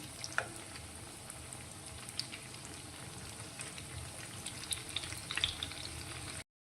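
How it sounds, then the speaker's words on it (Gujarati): Oil sizzles and crackles steadily as a potato and flattened rice snack shallow-fries, with a few soft spoon scrapes and pops along the way; no one speaks. "નીચેની સાઈડથી થોડો ક્રિસ્પી થાય તે રીતે તેને આપણે તળવાનો છે"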